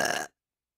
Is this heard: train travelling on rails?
no